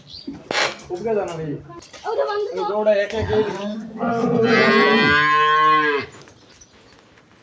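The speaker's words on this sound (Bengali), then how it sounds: "ওই গরুগুলো দেখাই" Holstein Friesian cattle on a dairy farm give drawn-out moos, a couple of shorter calls followed by one long, loud low bellow, with a voice speaking between the calls.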